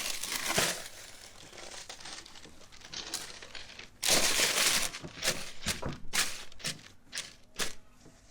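Paper being crumpled and crinkled inside the bag of a Cinderella toilet in an overland truck, close and loud, in bursts of rustling and crackling with a few soft thumps and no talking.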